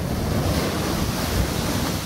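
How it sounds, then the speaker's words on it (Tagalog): Storm surge waves crash and overflow onto a seaside road, a loud continuous roar of surf and water mixed with heavy wind buffeting the microphone. "Napatakbo na ang ilang residente nang biglang umapaw ang alon sa kalsada."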